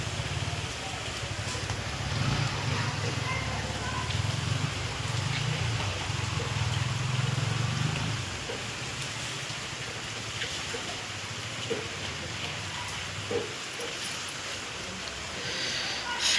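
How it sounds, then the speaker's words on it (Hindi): Steady hiss of heavy rain falling, constant and dense, with a low rumble early on and occasional faint clicks of drops. "सुबह से ही यहाँ पर बारिश हो रही है।"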